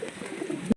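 Pigeons coo softly in a short murmuring burst that ends abruptly.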